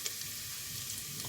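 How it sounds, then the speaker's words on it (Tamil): Ginger and garlic sizzling in ghee in a pan, a steady close frying hiss with faint stirring ticks, short and unbroken. "இஞ்சியும் பூண்டும் நல்லா நெய்யில் வதக்கிடுங்க."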